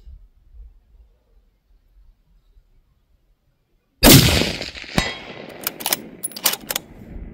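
A rifle fires live ammunition from the prone position: one sharp, very loud shot cracks out after several seconds of near silence, followed by a ringing, echoing tail with a few fainter pops and clanks.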